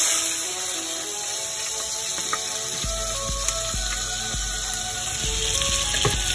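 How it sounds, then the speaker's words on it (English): Shallots brown in a pan for a rabbit-with-mustard dish, giving a bright, continuous close sizzle with faint tool taps and scrapes, and no voices. "We're going to take the shallots and we're just going to brown them a bit"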